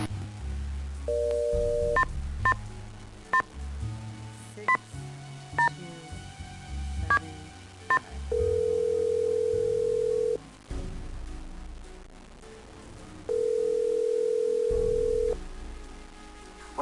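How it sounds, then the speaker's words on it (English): Telephone keypad dialing in the Nancy Drew video game Stay Tuned for Danger, with a series of clear DTMF tones followed by two long, steady dial-tone stretches, loud and close with no talk. "And we do have the phone here, so we can use it to call."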